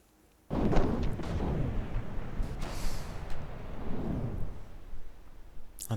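Artillery fire booms across a video game battle at a star fort, deep rolling blasts starting abruptly and continuing as a dense, sustained barrage of rumbling impacts.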